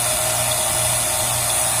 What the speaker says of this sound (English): Vacuum pump.